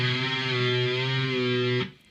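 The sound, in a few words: distorted electric guitar riff with string bends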